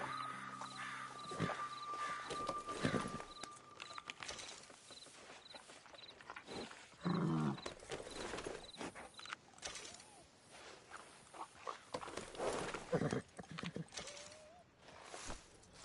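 Horse hooves clip-clopping in Red Dead Redemption 2, a steady rhythm of soft close steps with occasional tack rattles, fairly faint, alongside a few game tones and a brief spoken line.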